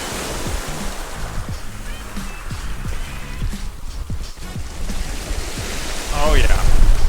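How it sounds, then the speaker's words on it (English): Ocean waves wash onto a beach in Barbados in front of a hotel, a steady rushing surf with wind buffeting the microphone and a brief voice near the end. "I'm on the beach in front of the hotel right now"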